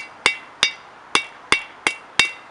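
Six evenly spaced ringing hammer blows on metal at a forge, straightening a small forged steel leaf, each strike sharp and close with a short metallic ring, about two per second.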